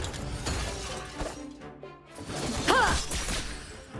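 Rock shattering slash attack in Honkai Star Rail, a sharp crashing smash of breaking stone with a whooshing swipe and glittering shatter effects, loud and close, no speech.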